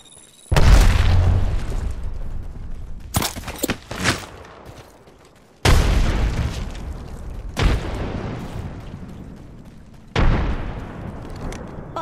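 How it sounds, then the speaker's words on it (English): Grenade explosions in the Apex Legends video game: several loud, deep booms land a few seconds apart, each with a sharp onset and a rumbling decay, plus smaller bursts in between. "Look out, grenade!"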